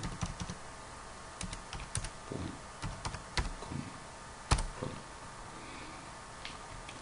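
Quick, irregular clicking of computer keyboard keys as a word is typed, close and distinct, with short bursts of keystrokes, brief pauses and one sharper tap midway, no voices.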